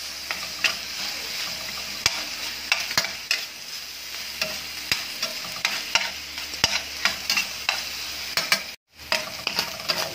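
Garlic, red onion and shallots sautéing in a pan, a continuous sizzle punctuated by frequent sharp clicks and scrapes of a utensil stirring, with one brief dropout near the end; no talking.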